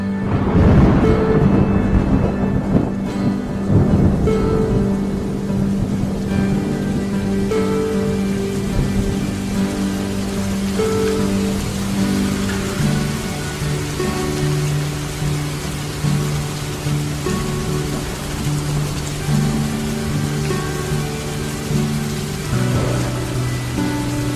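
Steady rain falls on an umbrella during an outdoor walk, a dense continuous patter that stays loud and even throughout, with low rumbling tones running underneath and no talking.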